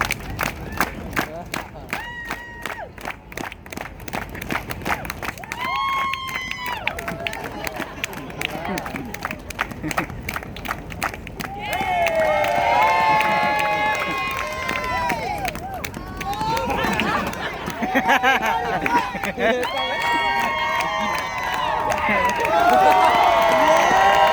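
A street show crowd in Times Square, New York, claps in rhythm and then breaks into loud cheering and shouting, with a host talking over the noise.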